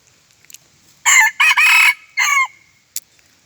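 A wild jungle fowl rooster crows close and loud, a single multi-part crow of clipped bursts ending in a drawn-out falling note, alone in otherwise quiet surroundings.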